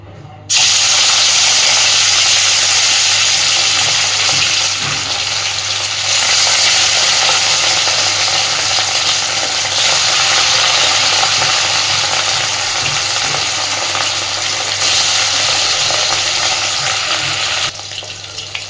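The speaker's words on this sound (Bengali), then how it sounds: "এবার আমি লবণ হলুদ মাখানো মাছগুলোকে খুব হালকা করে ভেজে নেব" Salt-and-turmeric-coated katla fish pieces frying lightly in hot oil in a wok, a loud, steady sizzle with hissing spatter that holds evenly throughout and drops off abruptly at the close.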